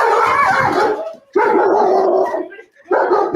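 A dog barks and howls in loud, drawn-out bursts, three separate calls broken by short pauses, close and alone without talk.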